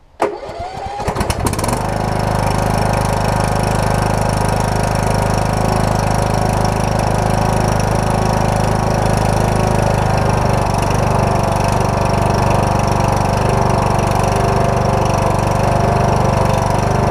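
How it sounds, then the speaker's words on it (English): A Husqvarna YTH21K46 riding mower's Kohler Courage engine, loose and leaking, sputters to life, then settles into a steady, loud, close running drone with muffler fitted that holds unchanged to the end. "Running good, muffler's on it, pretty quiet."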